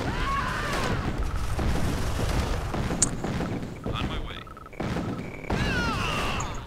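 Booming explosions and gunfire as units shoot an enemy power plant in a real-time strategy game, a dense rumbling barrage with whistling effects and short pauses, lightly mixed with game sounds.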